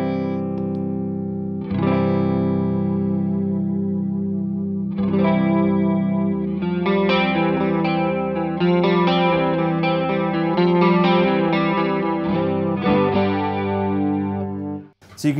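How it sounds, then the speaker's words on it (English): Electric guitar run through a Walrus Audio pedal's chorus effect: chords ring out and sustain in several strummed phrases, with a shimmering, wavering modulation and some reverb, steady and loud throughout with no talk. "and then that creates the chorus effect"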